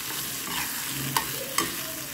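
Liver frying in a pan is stirred with a couple of sharp utensil scrapes against a steady, moderate sizzle, close by, for a curry with no voices.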